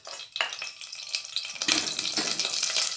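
Oil crackles and sizzles in a hot pan, close up, growing louder and denser partway through with no talking.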